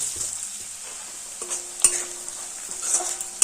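Long-sliced onions frying over a medium gas flame in a pan for a potato, egg and spring onion curry, a steady close sizzle with occasional scrapes and soft clinks of a stirring utensil.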